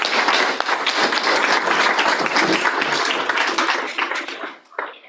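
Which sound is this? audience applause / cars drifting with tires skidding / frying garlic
audience applause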